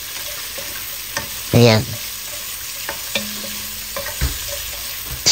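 Ginger stir-fried in a pan as the first step of sweet and sour tilapia, giving a low steady sizzle with a few scraping stirs and clinks and one brief louder burst, close by, with a short spoken word.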